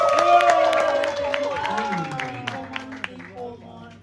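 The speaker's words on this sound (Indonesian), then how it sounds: "Tepuk tangan untuk tim 2." A crowd at a premiere and crew introduction applauds and cheers for team 2, with steady clapping and voices that fade gradually over several seconds, mixed with talk.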